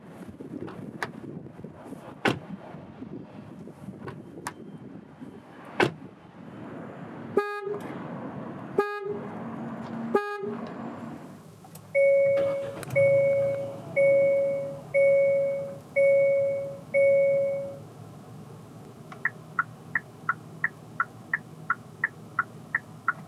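A series of electronic chimes, beeps and short horn-like tones from a Hyundai Casper 1.0 small car play one after another in a parking area: clicks, a pulsing repeated tone, then quick rapid beeps.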